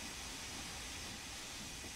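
Steam locomotive working hard past a signal, a dense, steady roar of steam and exhaust hiss filling the whole stretch, loud and close with no clear beats and no voices.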